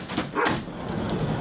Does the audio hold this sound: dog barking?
yes